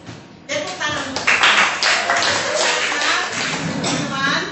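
Applause from a crowd of schoolteachers at a positive-education dissemination session breaks out suddenly and holds steady as dense, continuous clapping, with voices mixed in underneath.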